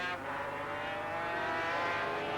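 500cc Grand Prix racing motorcycles at the Buenos Aires Autodrome in 1982, engines screaming in a high-pitched sustained whine that rises slightly, heard from a distance at moderate loudness.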